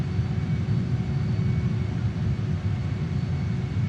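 Steady, loud, broadband roar of a JAS-39 Gripen fighter's jet engine heard from the cockpit on approach at Dubbo, New South Wales, with a constant low rumble and faint whine and no pauses.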